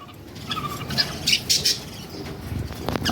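Java sparrows feeding, with bursts of wing flutter and short chirps from close by, uneven and intermittent over a quiet background.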